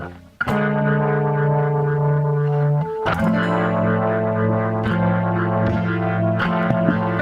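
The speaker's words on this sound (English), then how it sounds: "Can you guys hear my my guitar signal okay?" Electric Gretsch guitar played through effects, with distorted, echoing chords that ring out sustained, restruck at about 0.4 s and 3 s with smaller accents later; loud and steady with no talking.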